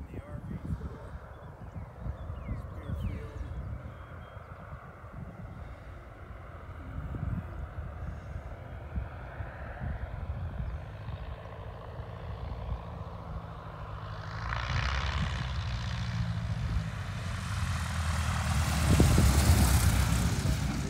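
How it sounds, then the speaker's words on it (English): An RV4 light propeller aircraft lands at Speer Field, its engine droning steadily close by, then rising and roaring louder near the end as it touches down, with people talking throughout. "first landing in the RV4 93 golf mic here at Speer Field"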